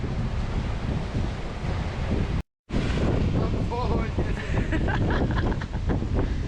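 Big North Sea waves on a wild Scottish coast surge and crash in a loud, continuous roar, heavy wind buffeting the microphone throughout, with a brief dropout of silence midway before the churning water returns.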